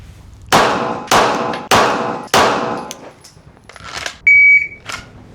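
Steel targets struck by Glock 17 Gen 6 pistol rounds give four sharp, loud metallic clangs at even intervals, each ringing out briefly, then lighter pings and a tonal ring near the end.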